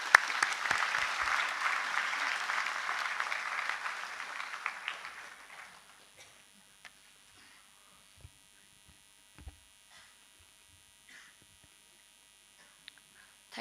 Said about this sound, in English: a big round of applause from my side to the graduating class